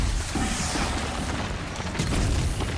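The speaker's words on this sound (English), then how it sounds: "That explosion's gonna hurt." An explosion in Horizon Zero Dawn: The Frozen Wilds booms as a dense, loud rumbling burst that fills the whole stretch, with a heavier surge near the end.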